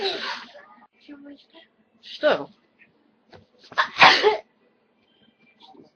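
A sharp, loud sneeze bursts out near the middle, preceded by a smaller sneeze-like burst, with brief bits of talk and quiet gaps around them.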